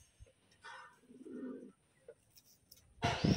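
Pigeons coo softly in short low murmuring calls close by, separated by quiet gaps, with a brief rustle or flutter at the end.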